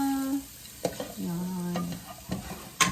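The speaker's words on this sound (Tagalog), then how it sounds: "Gisa-gisa, ganyan. Gisa-gisa lang siya." Humba ingredients sauté in a pan for a Filipino humba dish, giving a steady close sizzle broken by a few sharp spatula scrapes and clatters against the pan; no one speaks.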